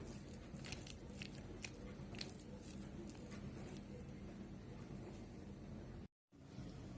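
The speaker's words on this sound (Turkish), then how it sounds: "1 yemek kaşığı kadar tereyağı döküp iyice eziyorum bunları patatesimi. Çatal yardımıyla." A fork mashes boiled potatoes with butter, giving soft wet squishing and scraping at close range with a few sharper taps against the bowl. The sound stays faint throughout and drops out briefly near the end.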